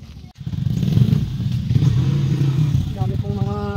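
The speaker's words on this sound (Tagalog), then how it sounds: "Dami pong mga motor na ito, oh." Motorcycles pass close by on a road near a waterfall, engines droning and revving loudly in a continuous stream, ending in a higher whining rev.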